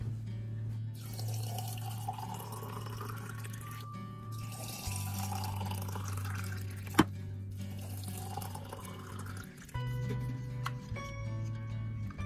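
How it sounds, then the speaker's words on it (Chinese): Boiling water pours steadily into a glass canning jar, a continuous gurgling stream with rising pitch as the jar fills, broken by a brief pause and a sharp clink midway. "在瓶里倒入开水，至离瓶口1英寸的位置。"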